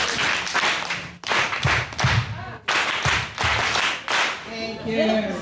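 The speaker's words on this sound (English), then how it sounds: "Can we do the clap for Siba" An audience at a health and mental health luncheon claims for a speaker in several loud bursts separated by brief pauses, with a voice speaking near the end.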